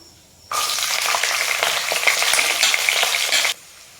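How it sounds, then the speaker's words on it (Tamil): Garlic frying in hot oil for a Tamil pirandai chutney, a steady bright sizzle that starts abruptly, holds for about three seconds with crackling pops, then cuts off; close and fairly loud, no talking. "பூண்டு பாருங்கள் நல்லா எண்ணெயில் பொரிஞ்சிட்ருக்கு"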